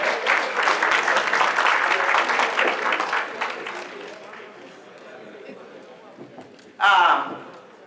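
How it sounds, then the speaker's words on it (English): Applause from a gala audience at an anniversary celebration, steady clapping for a few seconds that fades into quieter room noise, ending with a short loud burst. "just clap for him"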